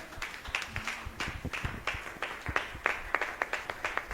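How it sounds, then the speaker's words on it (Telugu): A church congregation claps during a healing ministry service, a crowd of hands beating in uneven, fairly rhythmic bursts at moderate distance, with no voices over it. "ఎస్ అన్న వాళ్ళు గట్టిగా చప్పట్లు కొడతారు"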